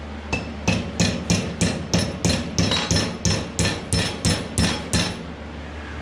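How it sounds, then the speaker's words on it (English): A carpenter's hammer strikes metal during band saw repair work, about fourteen loud, ringing blows in a steady, even rhythm, close up and with no voices. "it's a carpenter's hammer"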